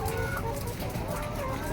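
Laying hens in a rooftop egg-farm coop cluck continuously in a dense flock, with overlapping calls close by against steady barn noise.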